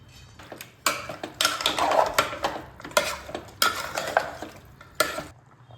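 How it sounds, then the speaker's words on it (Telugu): Cardamom, cloves and peppercorns roast dry in a pan without oil, stirred in bursts of rattling, scraping strokes against the metal, close and fairly loud, with quiet gaps between bursts and no talking. "నూనె లేకుండా పది నుండి పదహైదు నిమిషముల పాటు దీన్ని వేయించుకోవాలి"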